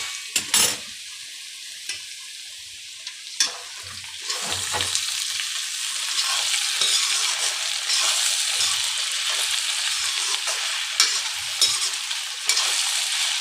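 Okra frying in a pan while being stirred, a few scraping knocks of the utensil at first, then a loud steady sizzle that swells and continues with occasional clinks.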